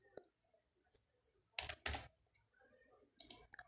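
Faint, sparse keystrokes on a computer keyboard, with a few scattered single taps and two short clusters of quicker clicks in an otherwise quiet room.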